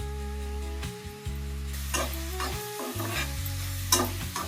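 Prawn curry stirred in a pan as turmeric and garam masala go in, with a spoon scraping in uneven strokes over a low, steady sizzle and a few sharper clinks close by.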